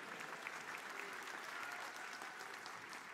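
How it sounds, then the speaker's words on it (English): Audience at a holiday jazz ensemble concert clapping, a faint, distant, steady patter of applause throughout. "So you can clap if you would like, Corbin."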